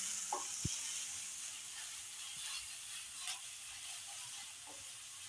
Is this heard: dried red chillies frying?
yes